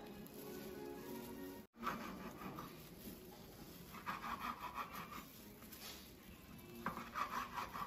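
A knife slicing sausages on a board for chicken sausage and shrimp gumbo, with steady close rubbing and scraping cuts in rhythmic bursts, briefly broken by a short dropout.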